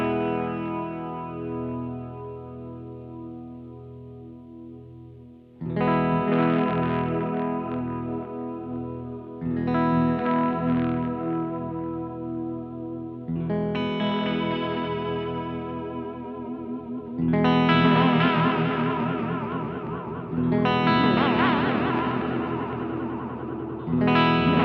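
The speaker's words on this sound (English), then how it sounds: "Here's just a nice modulation sound." An Electro-Harmonix Deluxe Memory Man 550 TT analog delay with tap tempo adds a warbling modulated, chorus-like shimmer to electric guitar chords, struck in several separate strums that ring out and repeat with echoing tails.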